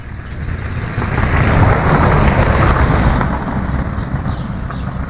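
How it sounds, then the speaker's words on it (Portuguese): A car passes near a garden of hibiscus plants, its broadband road rumble swelling to a peak and slowly fading away, steady and fairly close with no speech over it. "Passou um carro, né?"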